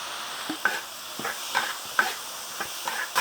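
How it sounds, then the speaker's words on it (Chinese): Cumin gluten with chili, barbecue seasoning and cumin powder is stir-fried in a wok, giving a steady close sizzle broken by regular scraping stirs of the spatula, roughly one every half second. "这些放下去以后，我们继续要搅拌一下，不然防止它锅底啊，它辣椒会焦掉。"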